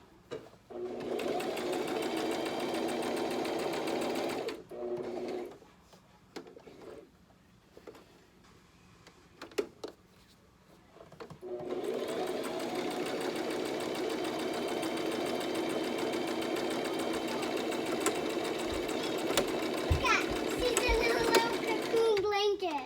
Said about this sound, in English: You can just keep sewing straight through if you want to.